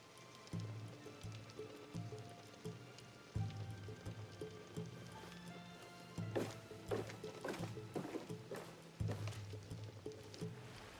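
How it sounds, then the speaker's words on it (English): Faint, steady rain in the Assassin's Creed Shadows game falls with a soft patter, broken by scattered clattering thuds and impacts, and no voices. "The rain can mask our escape."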